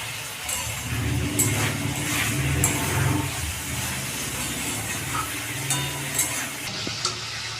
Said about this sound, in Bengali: এবার আমি ভালোভাবে সুন্দর করে কষে নেব।